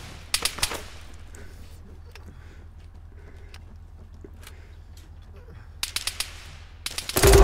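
Game gunfire from ARMA 3, a few sharp bursts of shots near the start and again toward the end over a low steady background hum, ending in a louder crack.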